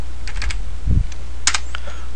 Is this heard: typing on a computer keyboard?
yes